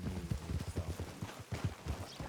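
Horse hooves clip-clop in a steady, moderately loud rhythm through an outdoor video game scene, with no talk over them.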